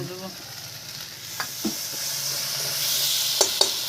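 Meat with potatoes and coriander sizzles and fries steadily in a pan over a clay stove, a constant close hiss broken by a few sharp clinks of a stirring utensil.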